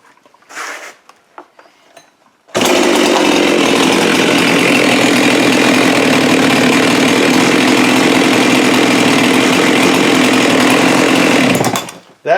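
A Husqvarna 390xp chainsaw fires on a pull after faint handling sounds, then runs loud and close at steady high revs for about ten seconds before cutting off abruptly.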